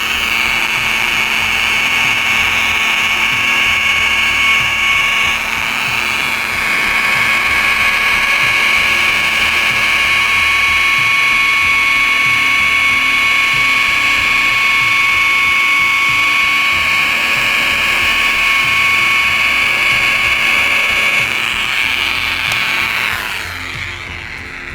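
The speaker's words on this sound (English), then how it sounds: "I'm going to take my machine, I'm going to turn it on to speed setting 1, and I'm going to lock the trigger." A machine polisher running steadily at its lowest speed with the trigger locked, buffing a faded brake light on an SN95 Ford Mustang; a loud, continuous high whine holds for about twenty seconds before winding down, with no talking.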